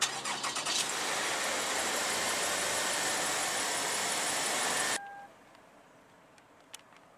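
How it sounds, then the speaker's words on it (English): A 2007 Toyota Avalon Limited engine started by push-button ignition, a loud close cranking and catch into a steady roar held for several seconds, then dropping to a quiet idle with a couple of soft beeps. "it does have push button ignition, so just make sure the key fob is in the vehicle, then put your foot on the brake and hit this button"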